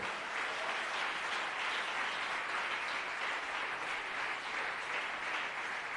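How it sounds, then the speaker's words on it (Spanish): A church congregation claps for the Lord during a pastor's sermon, a dense, even roar of many hands sustained at full strength for several seconds with no speech over it. "Fuerte ese aplauso para el Señor."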